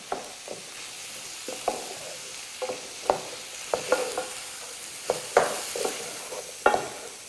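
Vegan Thai-style curry stirred in a pan over medium-low heat, a steady soft sizzle broken by intermittent scraping clicks of the utensil against the pan, close and fairly quiet, with no talking.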